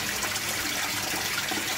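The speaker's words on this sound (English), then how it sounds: "There'll be water flowing out from the bypass" Water gushes steadily from an aquaponics pump bypass into a fish tank, a loud, close, continuous splashing rush without pause.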